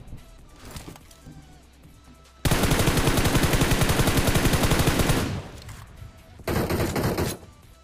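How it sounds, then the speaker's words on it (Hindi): Loud automatic gunfire in the mobile battle royale game PUBG Mobile: a dense rapid burst of about three seconds, then a short quieter gap and a second shorter burst, preceded by quiet in-game ambience. "सामने से भी फायरिंग का आवाज आ रहा था"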